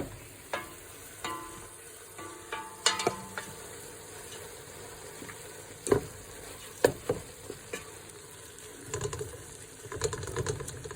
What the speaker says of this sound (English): now it's time to add our spaghetti back into the pot and get that all nice and sauced up